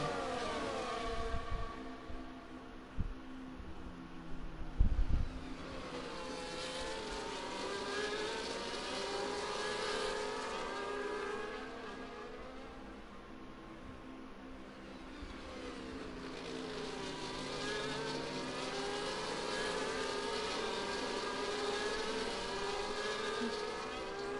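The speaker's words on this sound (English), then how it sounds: "We'll watch these cars slowly lead their way around Spa." Race cars in a racing video game circling Spa behind a safety car, several engines droning and rising and falling in pitch as they pass, steady and moderately loud with a few thumps early on.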